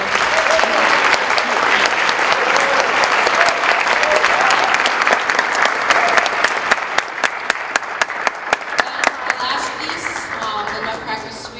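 Audience at a high school winter concert applauds a performer, a loud, full wash of many hands clapping steadily, thinning later into distinct individual claps with faint voices underneath.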